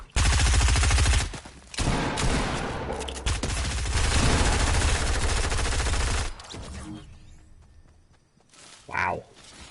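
Rapid automatic gunfire in Fortnite comes as loud, dense bursts that run for several seconds, break off, then resume before dying away, followed by quieter game sounds and a short spoken remark near the end.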